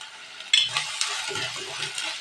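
Crushed onion, ginger, garlic and green chili frying in a pan, an even hiss of sizzling oil with a sharp sputter as the food goes in, then soft stirring scrapes, close by.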